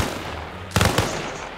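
Two sharp gunshots fired from a hillside crack out in quick succession over a steady background hiss, loud and close, with no talk.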